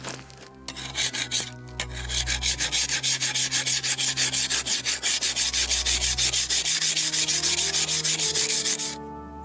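Block of ice carved by hand, rasping strokes in a fast, even rhythm that shave it into snowy powder; loud and close, starting after a few short scrapes and continuing steadily before stopping abruptly.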